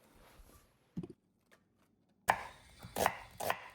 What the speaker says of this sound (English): Here I am finely chopping the onion.